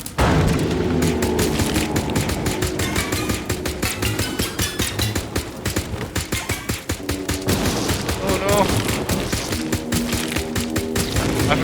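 Rapid bursts of gunfire ring out in the video game Dreams while pumpkins are shot, dense repeated shots crackling loudly and almost continuously over the whole stretch.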